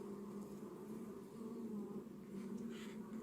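Honeybees hum steadily and close during an inspection of a hive, with a brood frame pulled out; the buzzing forms a low, continuous drone with slight swells and no voices.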